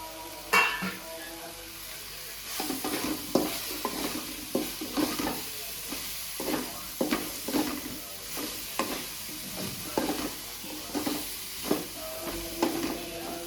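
Cut banana for a banana oggarane tempering sizzles in a pan while a spoon stirs it in repeated scraping strokes, the frying hiss constant underneath the rhythmic stirring.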